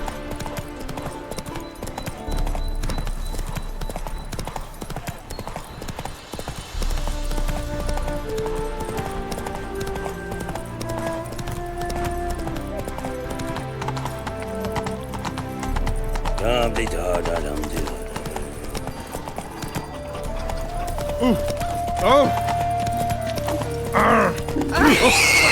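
Hooves of Roach, a horse in The Witcher 3 video game, clip-clop in a steady galloping rhythm beneath game music, with an occasional whinny and someone talking over it.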